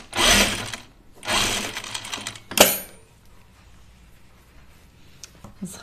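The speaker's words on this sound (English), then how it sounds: "This whole thing gets sewn." Sewing machine running in two loud, steady stitching bursts, then a short sharp burst. After that it goes quiet, with a few faint clicks and handling noises.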